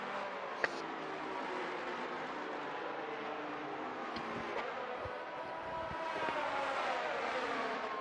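Race car engines in the F1 22 racing game at the Brazil round hum at moderate, steady volume during a safety car period, with a few brief clicks and no talk.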